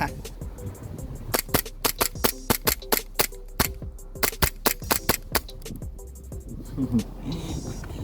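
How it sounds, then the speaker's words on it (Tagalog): WE T-Rex airsoft gun firing at about 340 FPS at a star target, a rapid run of sharp close cracks, some in quick pairs, over a steady low hum with brief pauses. "Putok naman natin ng 340 FPS sa star target."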